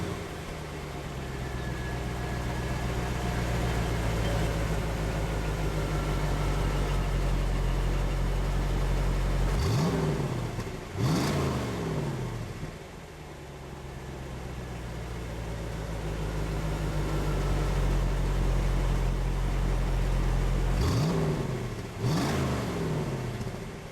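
Stock-exhaust LT1 V8 in a Corvette idles with a deep steady rumble, then is revved in sharp bursts around the middle and near the end before settling back to idle.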